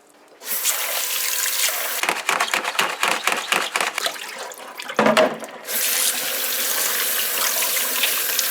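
Tap water running into a kitchen sink to rinse chicken gizzards with a little vinegar: a loud, steady gush broken midway by rapid splashing pulses, then a smooth continuous flow again.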